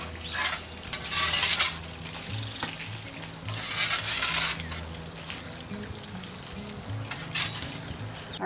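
Shish kebabs cook over hot brick in a brick oven, with bursts of close sizzling and frying that swell and fade, mixed with light metallic clinks as the skewers are turned.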